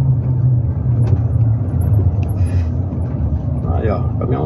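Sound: sugarcane truck passing on the road

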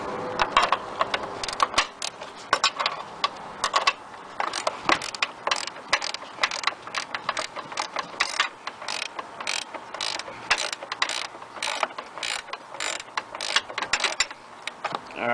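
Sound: wrench ratcheting off 13 mm nuts on BMW E60 wheel bearing

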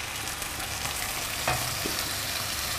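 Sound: onions and cashew nuts frying for cashew nut pilaf

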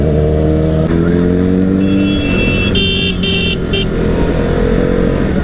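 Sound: Kawasaki Z900 superbike exhaust while riding

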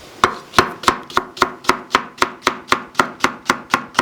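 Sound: knife chopping leeks

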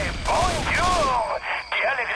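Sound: gunfire in video game Left 4 Dead 2

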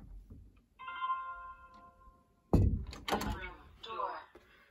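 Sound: bedroom door opening, triggering security sensor

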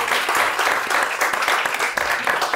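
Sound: audience applauding

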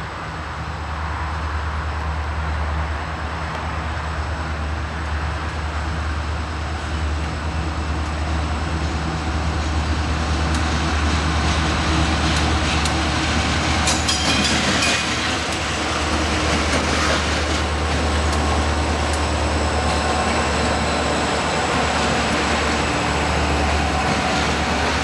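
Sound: train passing on track

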